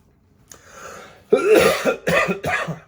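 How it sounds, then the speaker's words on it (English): A few harsh, chesty coughs from a lingering post-COVID cough in quick succession, close and loud, preceded by a quieter breathy sound. "I got the post-COVID cough, people."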